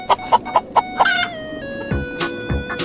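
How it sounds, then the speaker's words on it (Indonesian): A hen clucks in a quick series of sharp, evenly spaced notes, then gives a longer drawn-out call, close and clear with no talk. "Ini adalah ayam betina."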